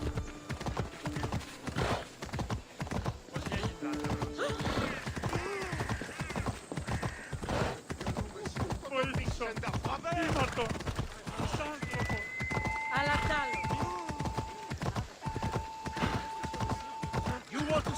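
Horse hooves clip-clop during a ride in the video game Assassin's Creed Odyssey, a steady rhythmic trot heard amid game sounds and tones, with a voice talking over much of it.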